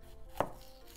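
One sharp knife chop slices the top off an onion on a cutting board, a single close crisp thud in otherwise quiet surroundings.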